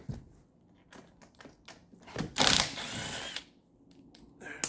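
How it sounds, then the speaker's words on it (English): Set screws come out of a slide-out awning roller on a Carefree of Colorado RV awning. A few short ratcheting and mechanical clicks sound close by, with a louder burst of tool whirring in the middle, against quiet background. "All I have to do now is pull those two set screws out"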